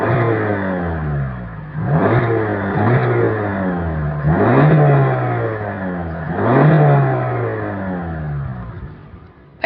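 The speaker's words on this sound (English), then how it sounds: "As always, here is that exhaust clip." A 2025 Mazda 3 sedan's exhaust, heard up close over a steady idle-like drone, swelling in three or four rev blips that climb and fall back, loud and without speech.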